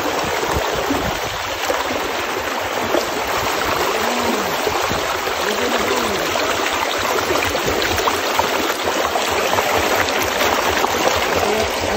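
The Lagnas River in Sariaya, Quezon runs strongly past shallow wading spots, giving a close, continuous rushing and gurgling wash that holds steady throughout, with no one speaking.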